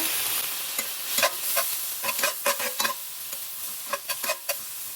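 A utensil stirs and scrapes lo mein vegetables in a hot pan, with a steady sizzle under a series of sharp, close scraping strokes clustered in quick bursts, no voices.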